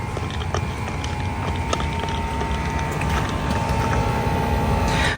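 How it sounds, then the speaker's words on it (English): A steady mechanical buzz with a low droning hum from an idle Toyota RAV4 Prime's heat pump while the car preconditions outdoors, engine off, continuous and fairly loud, ending abruptly. "That is the car preconditioning itself."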